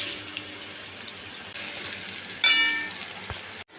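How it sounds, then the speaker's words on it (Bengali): Potatoes fry in hot oil with tempering spices in a wok, giving a steady close hiss of sizzling. A short clatter of stirring sounds near the end. "এবার আমি আলুগুলো একটু ভেজে নেব"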